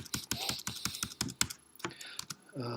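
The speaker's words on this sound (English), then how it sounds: "I started typing the data before I typed the columns" Rapid clicking keystrokes on a computer keyboard, close and crisp, tapping out in quick irregular bursts before trailing off into a few slower presses.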